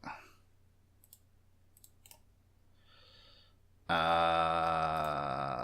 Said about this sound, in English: Oh, damn it, I'm clicking on the wrong thing.